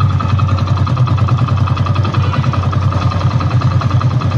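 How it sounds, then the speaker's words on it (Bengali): A 2024 Hero Splendor Plus Xtec 100cc motorcycle with a digital meter idles steadily up close, its single-cylinder exhaust putting out an even, loud low-pitched thrum with a fine rapid pulse and no talk over it. "এটা ফ্রি অ্যাক্সিলারেটরের ইঞ্জিনের সাউন্ড, ফ্রি অ্যাক্সিলারেটরের সাইলেন্সারের।"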